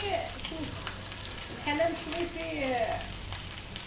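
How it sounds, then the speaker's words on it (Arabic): Sardines frying in a hot, dry pan with no oil, giving a steady crackling sizzle with a faint voice speaking over it. "ديرو فيها السردين وخلوه بحال مشوي"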